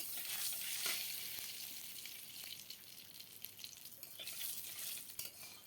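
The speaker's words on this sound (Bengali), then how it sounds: "দিয়ে দিলাম রাঁধুনি, জিরা। ভালো করে ভেজে নেব।" Radhuni and cumin seeds fry in hot oil, giving a soft, steady, crackling sizzle with occasional scraping stir sounds, close but quiet, with no talking.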